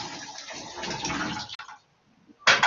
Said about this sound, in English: in order to get the water out, move the messenger, we just open one side of this, and then we can pour that into our container